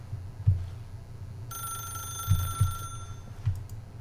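A telephone rings in the video game The Stanley Parable, a bright metallic bell trill lasting over a second, set against low thumps and a soft background hum.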